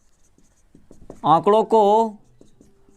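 A pen or pencil scratches out numbers by hand on paper during a Hindi maths lesson, the soft writing strokes sitting faint and close beneath a clear teaching voice.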